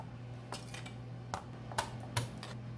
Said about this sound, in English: Mince 2 garlic cloves.